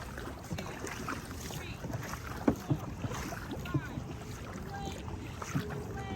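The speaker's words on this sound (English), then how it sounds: "we paddle closer, the water gently rippling between our boats" Dragon boat paddles dipping and rippling water by a wharf and marina, soft irregular splashes and knocks over steady wind rumble, with a few louder strokes standing out near the microphone.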